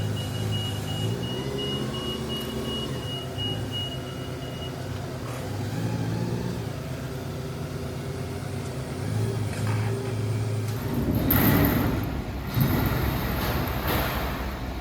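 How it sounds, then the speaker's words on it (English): An industrial air compressor with a VFD soft start ramps up slowly in a fabrication shop in Corinth, MS, a low rising hum that swells into a louder broadband roar near the end. "Take a little look at the air compressor now starting up, and these things have VFD start on them, so very slow ramp up"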